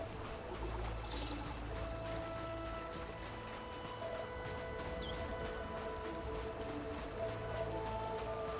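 Water pours and splashes continuously in the Starfield video game, a steady trickling rush with scattered drip-like ticks, moderately quiet and without talk.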